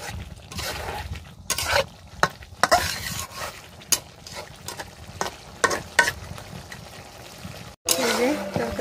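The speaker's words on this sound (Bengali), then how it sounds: "একটু কষিয়ে তারপরে পানি দিয়ে দেবো সিদ্ধর জন্য।" Curry being stirred and sautéed in a pan (kasha) before water is added, with repeated spatula scrapes and clatters over a continuous sizzle.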